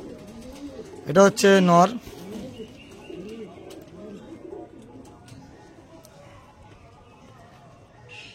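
Andhra pigeons coo repeatedly in soft, low, rolling bursts close by, while someone speaks briefly over them early on.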